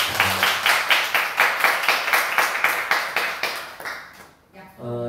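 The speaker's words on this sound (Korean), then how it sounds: "박수 한번" A church congregation at a Sunday service claps together in a steady rhythmic beat, about two claps per second, fading out near the end before a voice begins speaking.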